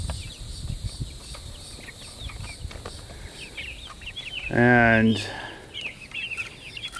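Chickens in a backyard chicken tractor give scattered short clucks throughout, then one louder, drawn-out rising squawk from a bird close by, with brief speech at the start.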